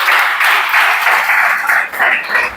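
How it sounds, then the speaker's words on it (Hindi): A classroom of students preparing for a police recruitment exam bursts into brisk, dense applause, a short steady round of many hands clapping up close. "तो जोरदार तालियां भाई सबके लिए।"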